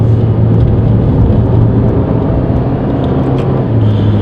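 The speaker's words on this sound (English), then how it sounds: "The noise of this car on the overrun is just absolutely insane." Ferrari 458 Italia V8 on the overrun with its auto blipper, a steady loud in-car drone of engine and road noise with low harmonic hum running throughout, no talking.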